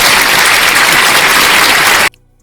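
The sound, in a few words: audience applause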